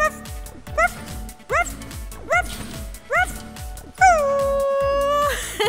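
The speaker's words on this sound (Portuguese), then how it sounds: "Dog! É cachorro em inglês!" Cartoon dog in a Portuguese-language children's show barks in a quick series of yappy, rising yips, ending in one longer drawn-out howling bark, loud and close with light music underneath.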